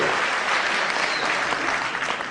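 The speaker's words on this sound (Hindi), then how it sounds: "मैं चाहता हूं एक बार जोरदार तालियां आप इनके शेरों के लिए बजा दें" A short burst of loud, dense audience applause at a human rights council program, many hands clapping together at an even level for a couple of seconds.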